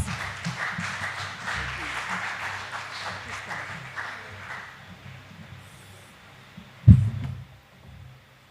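Applause from an audience at a Ministry of Local Government town hall in Jamaica, a steady round of clapping at moderate distance that fades out, ending with a brief thump.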